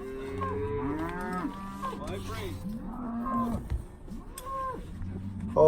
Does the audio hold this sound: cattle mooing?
yes